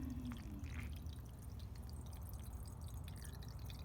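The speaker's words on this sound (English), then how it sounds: "you can hear the water running into the pipe" Water trickles and drips into the main drain pipe of a backyard pool, a faint steady running sound under low background rumble.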